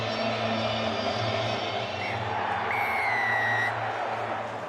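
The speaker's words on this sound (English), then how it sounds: "Supporters are certainly in good cheer." Rugby league supporters at a St Helens match keep up a steady, loud roar of crowd noise with scattered whistles and cheering after a try, a broad wash of voices filling the stadium.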